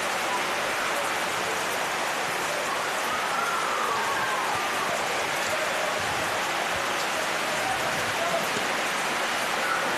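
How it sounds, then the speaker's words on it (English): Heavy rain pours steadily onto a flooded football field during a Darwin league match, a dense, even hiss that runs unbroken from start to finish. "That rain is not going anywhere anytime soon"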